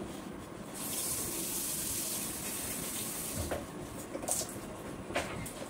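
Water runs steadily into a washing machine holding a little leftover Surf Excel detergent, making a continuous close rushing splash, followed by a few clunks and knocks toward the end.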